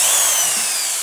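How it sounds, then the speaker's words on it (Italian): A loud, steady high-pitched whine of a power drill boring a hole, running continuously with a slight grinding edge, close to the listener. "Adesso inizierò a fare il buco"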